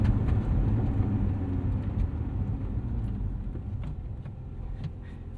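A 2025 Lotus Emira V6 driving at easy speed, a low continuous engine and tire rumble from inside the cabin, steady and moderately loud with small bumps, no talk.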